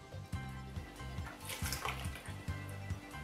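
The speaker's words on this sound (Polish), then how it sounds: "I dolewamy wody." Water being poured into a container while preparing a gluten-free, dairy-free dish with chia seeds, a soft splashing trickle over a low, pulsing background hum.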